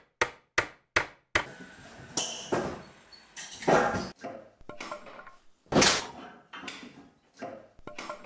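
Nails hammered into wood, a series of sharp, loud metallic strikes at an uneven pace, with quick taps at the start and heavier blows later, close by with no talking.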